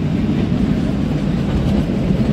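The Kalka–Shimla diesel toy train runs along, making a steady, loud rumble of wheels and carriages with faint rhythmic clatter that is heard from inside the coach and stays unbroken throughout.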